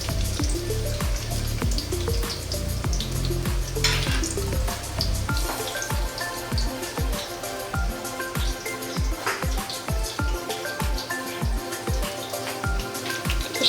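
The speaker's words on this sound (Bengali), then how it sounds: "পেঁয়াজটা তাড়াতাড়ি ভাজা ভাজা হয়ে যাবে" Chopped onion fries steadily in a pan with salt, a dense crackling sizzle dotted with sharp spatter clicks that stays loud and close for the whole stretch.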